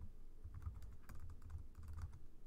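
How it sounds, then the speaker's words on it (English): Typing on a computer keyboard while writing Java code, a steady run of close, uneven clicks and key taps with short pauses, no talking. "Oh boy, my typing is not the best."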